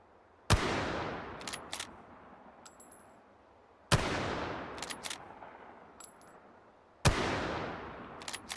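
Three loud, close Berthier carbine gunshots in a video game, evenly spaced a few seconds apart, each a sharp crack with a long echoing tail and faint metallic clinks of the action between shots.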